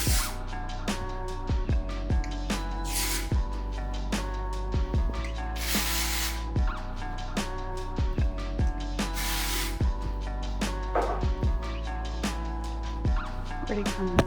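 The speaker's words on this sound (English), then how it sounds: "After it's like cooled down and I sprayed my texture spray" Aerosol texture spray misted onto styled hair, heard as a few short, loud hissing bursts that stand out over steady rhythmic background music.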